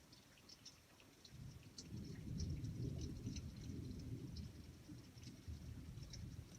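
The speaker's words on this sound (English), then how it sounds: "see if you can hear the thunder" Thunder rolls through a night storm, a deep sustained rumble that swells after the first second and stays heavy, with faint rain and scattered high ticks above it.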